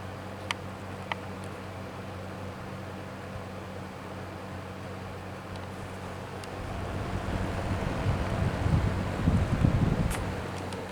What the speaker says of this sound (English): Blowing a good breeze.